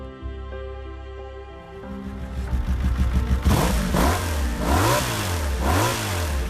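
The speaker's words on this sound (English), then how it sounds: "This is the sound of a V4 engine." A V4 cafe racer motorcycle engine idles low, then revs hard in repeated rising and falling surges, loud and close, with no one speaking.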